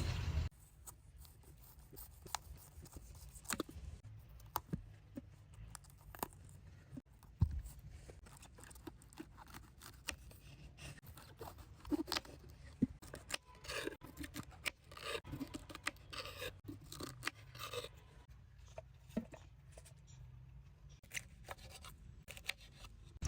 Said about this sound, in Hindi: सबसे पहले गोभी आलू को काट लेते हैं।